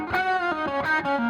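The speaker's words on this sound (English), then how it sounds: "So here's the brightest you get with these guitars, because now I'm here on the bridge pickup." Squier Paranormal Cabronita Thinline Telecaster electric guitar on its bright bridge pickup, played through distortion and effects: a short run of ringing, overdriven notes and chords changing every fraction of a second, loud and close with no talking.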